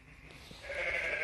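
Sheep on a farm give a faint, drawn-out bleat that rises toward the end of a quiet moment.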